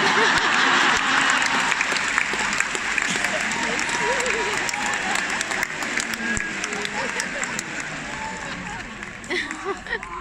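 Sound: arena audience applause

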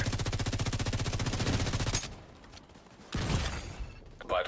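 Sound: gunfire in a video game

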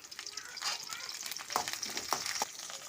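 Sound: curry leaves frying in hot oil for Kerala beef peralan

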